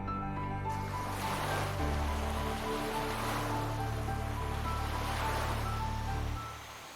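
Ocean surf pounding the rugged Atlantic coast at Nazaré, Portugal: a dense, continuous roar of breaking water that stays loud and steady, with faint tonal hum underneath, before easing off at the very end.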